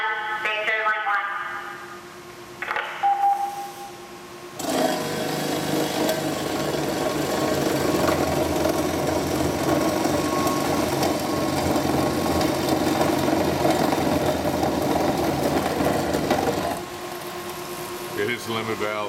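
A Doringer D350 SA saw cuts stress material, a sustained steady whirring grind lasting about twelve seconds before it cuts off, with a voice talking briefly at the start and mechanical clicks before the cut.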